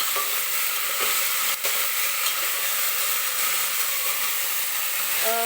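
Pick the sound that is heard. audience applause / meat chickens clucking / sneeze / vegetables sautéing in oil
vegetables sautéing in oil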